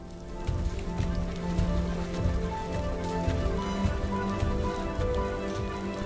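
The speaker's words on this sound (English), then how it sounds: "you should be hearing some soft music and rain." Steady soft rain in the video game Rime, continuous patter on surfaces with a faint tonal music bed underneath, even and unbroken throughout, no voices.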